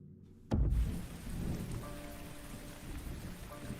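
Steady rain pours down in the video game The Foretold: Exordium after a sudden loud thunderclap, leaving a continuous hiss with low rumbling underneath.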